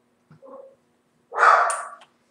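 A dog gives a short low yip followed by a louder, strained bark-like howl, close and alone against silence.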